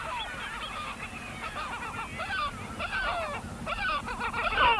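Gulls around the ruined village at Glen Bay on St Kilda give repeated honking, yelping calls in clustered bursts, moderately near over a steady outdoor background.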